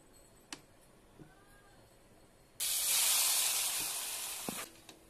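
Fish dropped into hot oil in a wok, bursting into a loud, steady sizzle that starts abruptly after a few quiet kitchen clicks and then fades slightly before stopping.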